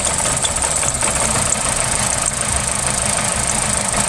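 A 2018 Hyundai Accent engine idling roughly after a head gasket replacement, a loud, steady, close drone with an uneven knocking pulse throughout and no voices.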